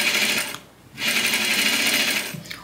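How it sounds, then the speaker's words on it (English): A sewing machine stitches the inner leg seam of a pant sample in two loud, close runs of rapid, even whirring, with a brief pause between them and no talking. "we can sew it down on both sides"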